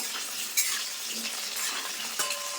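Potatoes fry in oil in a pan, with a soft continuous sizzle broken by light stirring scrapes and small clinks, and no talk.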